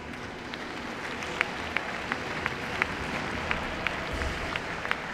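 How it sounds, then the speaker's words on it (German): An audience claps steadily at a Trakehner mare show in an arena, a dense, even wash of applause with regular sharper claps standing out, sustained for several seconds. "Gerne, dürfen Sie jetzt schon klatschen."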